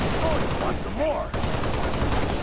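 Steady gunfire crackles through a city battle in Halo: Reach, dense rapid shots forming a continuous clatter at moderate volume, with faint game sounds woven through.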